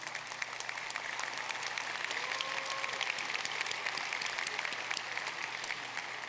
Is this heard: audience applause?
yes